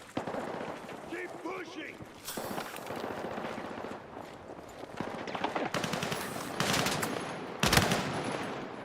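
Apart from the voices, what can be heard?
submachine gunfire in the video game Battlefield 6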